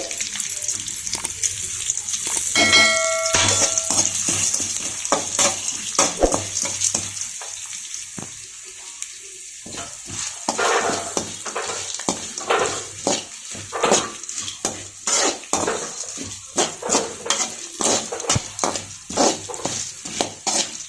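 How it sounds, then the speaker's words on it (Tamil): Cumin, fennel, cinnamon, bay leaf and black pepper dry roast in a pan for a country chicken masala, crackling and sizzling close up with repeated scraping stirs and a few clinks of utensils, no voices. "இப்போ வறுவலுக்கு ஃபஸ்ட்டு சீரகம், சோம்பு, பட்டை, இலை, மிளகு இது எல்லாத்தையும் நம்ம சேர்த்து வறுத்து எடுத்துக்க போகிறோம்."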